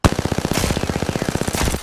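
Rapid automatic gunfire in the video game Apex Legends, a loud, close stream of evenly spaced shots opening with a sharp report and continuing without a break, no voices.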